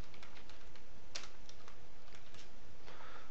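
Someone types a registry key name on a computer keyboard, a close run of light, uneven key clicks over a steady background hiss, with no talking.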